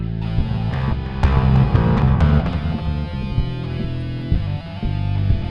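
Bass guitar sent through an AUX send into an echo effect in a music production program, producing a dense, sustained low tone with repeating delayed notes and a bright distorted edge, steady and loud with no voices.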